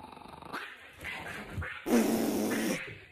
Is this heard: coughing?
no